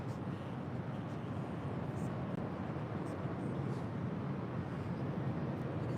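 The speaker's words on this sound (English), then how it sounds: "This is All Nippon Airways Flight 6 Heavy coming in from Tokyo Narita on a 787-9 Dreamliner." An All Nippon Airways Boeing 787-9 Dreamliner landing at LAX fills the scene with a constant, dense jet roar, broad and steady without breaks, heard at moderate distance.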